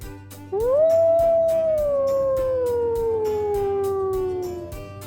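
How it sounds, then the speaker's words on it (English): Wolf howling: a single long, clear howl rising sharply then slowly sliding down in pitch, sustained for several seconds over faint rhythmic background music. "Wolf."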